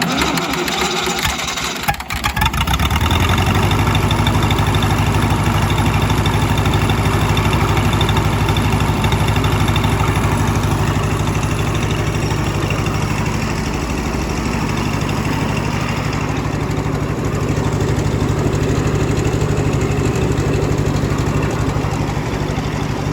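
A Lincoln SA 200 welder's engine, restarted after its exciter armature was cleaned, starts up and then idles steadily and loudly with a deep, even low-pitched drone that runs unbroken to the end.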